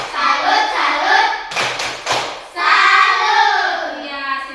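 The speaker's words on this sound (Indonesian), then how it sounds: "Kita tepuk salut untuk kelompok 1" A classroom of children clapping a tepuk salut chant, bursts of rhythmic hand claps in short groups between stretches of chanting voices, close and loud.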